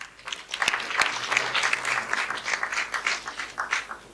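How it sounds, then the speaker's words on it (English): An audience at a conference's closing session gives a round of applause, dense clapping of many hands heard up close and continuing throughout. "she deserves a round of applause"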